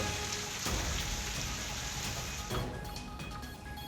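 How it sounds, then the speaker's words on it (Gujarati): Steady rain patters densely on surfaces, a continuous even hiss with scattered louder drops. "ગાજવીજ સાથે વરસાદનું આગમન થઈ ચૂક્યું છે"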